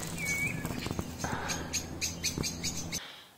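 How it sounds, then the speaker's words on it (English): Blackbirds giving alarm calls near a pond with floodplain meadows, sharp repeated chinking notes in quick bursts over a faint outdoor background, with a thin whistle early on. "try not to get attacked by alarming blackbirds"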